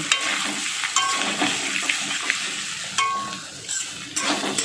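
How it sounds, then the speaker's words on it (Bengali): A utensil scrapes and stirs spices through sizzling pointed gourd in a frying pan, with repeated sharp scraping strokes over steady frying hiss. "এইবার আমি একত্রে সব নেড়ে নিচ্ছি"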